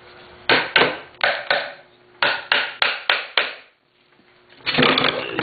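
A hammer taps around a Polaris XLT 600 triple snowmobile engine crankshaft, giving a series of sharp, close metallic knocks in uneven bursts, a pair, then a run of four, with a louder rough clatter at the end.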